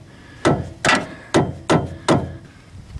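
A long screwdriver hammered against a steering shaft on a Chevy HHR, giving five sharp metallic knocks spaced roughly evenly over three seconds, close and loud with no talking.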